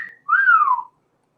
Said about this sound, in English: we got a wolf whistle